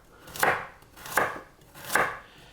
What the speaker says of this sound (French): On tronçonne.